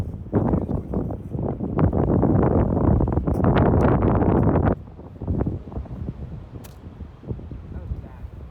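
Wind buffets a microphone outdoors on a golf course, with loud rumbling gusts for several seconds before it drops to a lighter, steadier rush.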